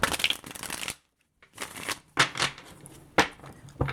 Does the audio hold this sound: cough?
no